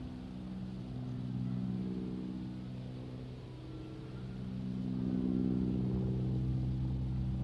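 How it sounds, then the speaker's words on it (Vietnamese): Motorboats running on a river beside a hilltop pagoda, steady droning engines heard from the bank, swelling and fading as boats pass, moderately loud with no talk. "nghe xuồng bè ghe máy chạy quá trời luôn"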